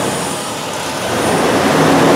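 Engine of a 2002 Ford Explorer 4.0L running rough and close to stalling while its EGR solenoid is energized, a loud, dense, continuous rumble that swells slightly toward the end.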